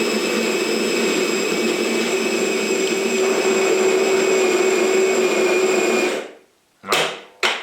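A Saeco Vienna coffee machine, freshly fitted with a replacement grinder, runs with a loud, steady whirring drone and sustained tonal hum for about six seconds, then stops abruptly, followed by two brief bursts of noise.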